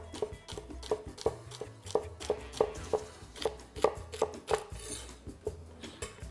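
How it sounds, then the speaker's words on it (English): A knife chops celery stalks at an angle on a cutting board, producing a steady run of about a dozen crisp, evenly spaced chops, close and fairly loud, with no talking. "And the easiest way to do that is to make a V shape with your celery and with your knife."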